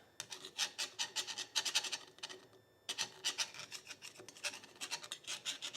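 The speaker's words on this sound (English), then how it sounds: "Let me get my screwdriver and you can hear it again." Screwdriver tip scraping along a scored, ruined cylinder wall of a Honda engine from a Troy-Bilt machine with metal transfer, giving repeated rasping strokes in quick rhythmic bursts, close and fairly quiet, with a short pause midway.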